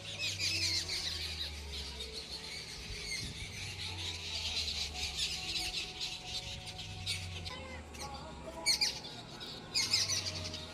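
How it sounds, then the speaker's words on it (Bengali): Birds chirp from a mango tree in the morning, a cluster of high, rapid twittering calls and squeaky notes that continue throughout at moderate distance, growing sharper toward the end, with no talking. "সুন্দর পাখির কিচিরমিচির আওয়াজ।"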